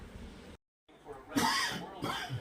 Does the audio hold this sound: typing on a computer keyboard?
no